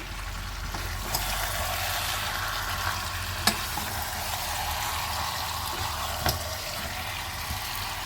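Bihari-style chicken curry with grated tomato being sautéed in a pan, a steady close sizzle with a few scraping spoon strokes and occasional sharp ticks, no voices heard.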